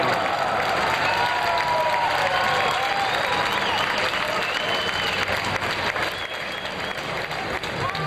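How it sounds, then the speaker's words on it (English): A racetrack crowd keeps up dense, loud, continuous applause as the racehorse Zenyatta enters the winner's circle, with cheers and voices blended into the clapping. "Let's listen into the applause as she enters the winner's circle."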